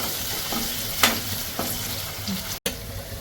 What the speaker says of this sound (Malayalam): കുറച്ച് പച്ചമുളക് ഇട്ട് കൊടുക്കുക. എന്നിട്ട് നന്നായിട്ടൊന്ന് ഇളക്കി കൊടുക്കുക.